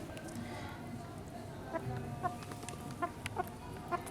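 Chickens cluck in short, scattered bursts over a busy low rumble of background noise, with several sharp peck-like clucks spaced through the clip.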